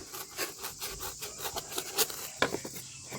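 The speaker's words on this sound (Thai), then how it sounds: "เราก็จะตัด ตัดโฟมของเราให้มันเล็กลงนะคะ" Foam being cut down to a smaller size by hand for plant cuttings, a quiet rhythmic rasping and rubbing with repeated short strokes, close and soft, no talk over it.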